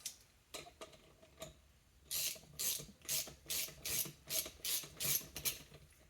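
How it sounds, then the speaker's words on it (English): Ratchet tightening a puller to remove the rotor from a BMW R60/2 motorcycle engine: a few slow clicks, then a steady run of about nine quick rhythmic ratcheting strokes, close and fairly quiet. "we'll tighten that to pop that rotor off."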